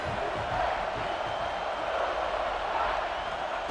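Stadium crowd in a college football video game, a steady dense roar of many voices, loud and unbroken, with no distinct cheers standing out.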